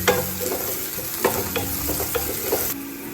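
A big cut onion and curry leaves fry in a pan, giving a steady sizzle broken by a few scraping stirs and light knocks, close and clear with no talking.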